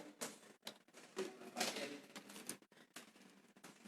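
Fingers tap out a quick burst of keystrokes on a computer keyboard, a faint run of light, irregular clicks with brief pauses between them.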